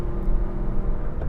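A Porsche 911 S with an air-cooled flat-six engine, Bosch K-Jetronic injection, cruising gently at low speed, giving a steady low rumbling drone heard from inside the cabin.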